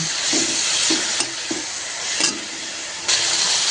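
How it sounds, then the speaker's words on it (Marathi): Rice with cabbage, cilantro and potato stir-fried in a pan, a steady loud sizzle with a handful of soft spatula scrapes and taps spread across it, no voices. "छान परतून घेऊ."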